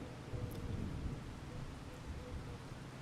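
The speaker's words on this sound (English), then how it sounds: "I think it's meant to stop raining about midday" Steady rain falls in Farming Simulator 25, a continuous dense hiss with low rumbling, moderately loud and unbroken throughout.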